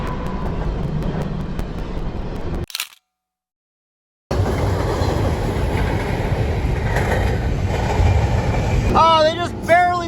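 A passing train heard near a railway tunnel, its steady loud rumble and rattle running for several seconds, cutting to silence, then resuming, with a voice speaking over the end.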